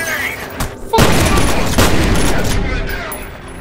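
Shotgun blasts in the first-person shooter F.E.A.R., a loud booming shot followed by a dense roar of gunfire and echoing combat noise that slowly tapers off.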